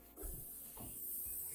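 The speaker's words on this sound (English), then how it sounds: "we've got to spray our answers on the canvases." Spray paint hisses from an aerosol can onto canvas in a continuous close spray with a couple of brief rattling shifts, no talking.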